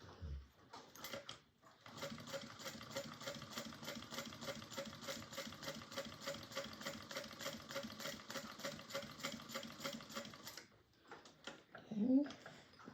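A sewing machine stitches a bag, a close, steady mechanical whirring chatter lasting about nine seconds between brief pauses, with faint handling noise at the end.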